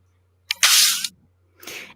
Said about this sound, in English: The doctor hits it with a hypo spray.